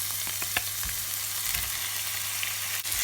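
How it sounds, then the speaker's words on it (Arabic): Onion frying in a pan with mint and pepper paste, a dense steady sizzle with occasional soft scrapes and taps of a stirring spoon, close and constant, without any talking. "ونحرك منيح خليها بس ياخد هيك لون ذهبي البصل"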